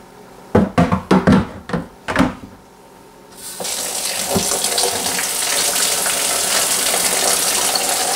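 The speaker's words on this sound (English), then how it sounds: "I'm going to put hot water up to about, just above the spigot here" Hot water pours into a Cooper DIY home brew kit fermenter, filling it to just above the spigot. A few sharp splashes and knocks come first, then the water settles into a steady, loud gushing rush.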